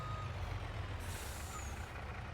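A truck in a farming video game gives a short hiss of air brakes over a constant low engine rumble, with no talking.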